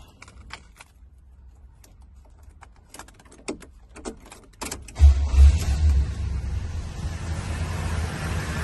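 A 1972 Buick Electra 225 with a 455 V8 cranks briefly after some clicks and rustling, then catches and settles into a steady, close, rumbling idle.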